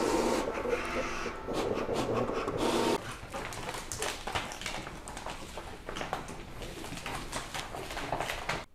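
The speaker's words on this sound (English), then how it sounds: "always keep an eye on the vinyl cutter" A vinyl cutter cuts a car sticker design, giving a mechanical whir followed by a series of quick clicking and ticking movements as the blade carriage travels, fairly close and steady.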